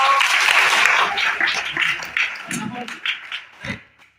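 Audience clapping at a high school magic show, a dense burst of applause that thins out and fades over a few seconds into scattered claps.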